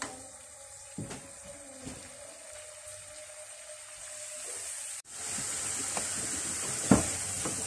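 A quiet pause with faint taps, then a sudden loud sizzle as anchovy sambal hits a hot pan, continuing with stirring scrapes nearby.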